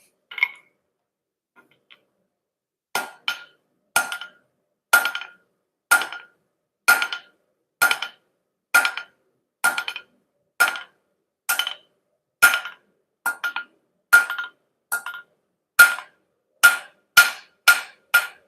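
Metal struck with a hammer on an anvil while forging bottle openers, sharp ringing blows in a steady rhythm of roughly one per second, often paired with a quick rebound tap, close and clear against a quiet background.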